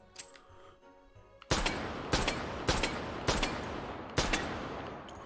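Five sharp gunshots from the Action Express pistol in Hot Dogs, Horseshoes & Hand Grenades, fired one at a time in a steady, loud rhythm after a quiet opening, each crack ringing briefly.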